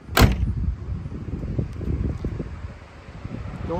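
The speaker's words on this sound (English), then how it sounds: "Shut the door." Door of a 1966 Chevrolet Chevelle Malibu slamming shut once with a sharp, solid thud at the start, followed by faint rustling and outdoor wind noise.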